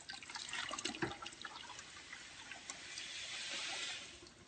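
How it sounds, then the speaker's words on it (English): Non-iodized granulated salt poured into a bucket holding three gallons of water, a soft trickling, splashing pour with a brief louder splash early on, fairly quiet. "I've got 3 pounds of salt right here that I'm going to pour in."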